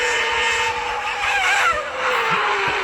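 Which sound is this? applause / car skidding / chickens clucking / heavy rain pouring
car skidding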